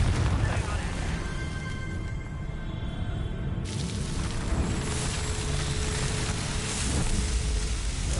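A Confringo fire spell blasts during a fight in Hogwarts Legacy, producing a loud, roaring, rumbling explosion that fills the whole stretch with dense crackling noise and shifts partway through.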